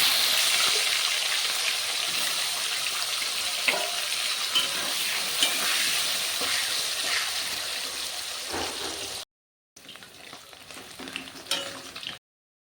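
Long-cut pieces of a large potato fry in hot oil with a steady, close crackling sizzle and occasional stirring knocks; the sound drops out briefly, then resumes until a sudden stop.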